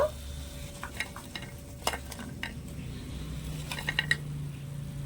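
Small gaja sweets made from maida and sugar frying in oil, a quiet steady sizzle with scattered metallic clinks and taps of a utensil against the pan, no talk heard.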